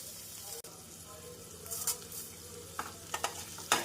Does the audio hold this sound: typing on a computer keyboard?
no